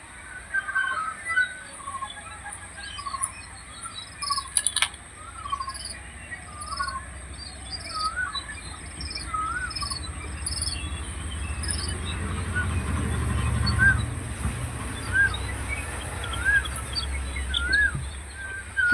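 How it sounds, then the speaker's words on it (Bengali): Birds call and chirp repeatedly across an open field beside water, a mix of short calls and caw-like cries at moderate distance over steady outdoor background noise, with a low rumble building toward the end. "পাখিগুলো কেমন ডাকছে দেখছো, পাখির আওয়াজ তোমরা নিশ্চয়ই শুনতে পাচ্ছ"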